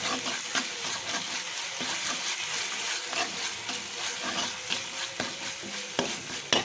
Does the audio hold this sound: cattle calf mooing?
no